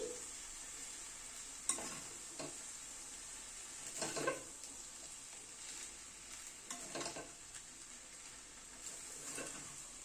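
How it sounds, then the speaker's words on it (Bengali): Fried rice being stirred in a pan after orange juice is added, with soft scraping strokes over a faint steady sizzle, a few louder stirs standing out. "কমলা লেবুর রসটা একটু মিশিয়ে দিচ্ছি।"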